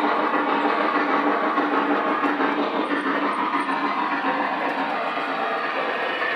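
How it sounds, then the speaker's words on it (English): A model steam locomotive chuffs steadily in a fast, even rhythm, a hissing puffing sound close by with no talking. "the chuff goes back to normal, the smoke laboring cuts down a little bit"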